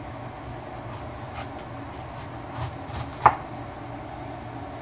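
A kitchen knife slices through a whole cauliflower to cut it into thick steaks, giving a few soft crunching cuts with one sharp tap of the blade on the board, no voices.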